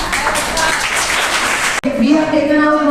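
Applause from an audience honouring speech competition winners at a school event, steady clapping that runs continuously, then a brief cut followed by a voice speaking over quieter background.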